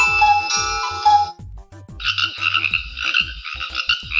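Loud, repeated frog croaks in a steady pulsing rhythm, close by, with a brief pause midway before the croaking resumes. No voices.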